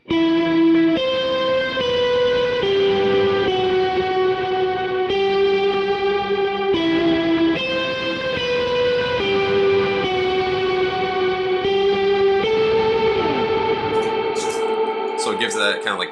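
An effects-laden electric guitar plays a plinky, repeating melodic line with echoing, chorused notes in a steady rhythm, sounding like a worship-song hook, loud and continuous, with a brief noisy flourish near the end.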